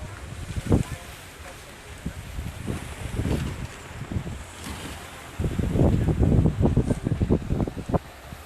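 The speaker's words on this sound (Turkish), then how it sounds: "Çok rüzgar var bayağı" Strong wind buffets the microphone with a rushing roar that swells and gusts, growing heavier toward the end, with a voice faintly underneath.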